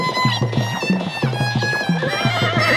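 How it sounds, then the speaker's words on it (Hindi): A cartoon horse gives a long, wavering whinny over steady, rhythmic clip-clopping hooves, both loud and close, with no talking. "उस तरफ से तो एक जिंदा घोड़ा आ रहा है।"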